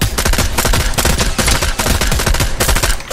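Loud, rapid automatic gunfire in Fortnite zero build, steady bursts of shots packed closely together for a few seconds with no pauses.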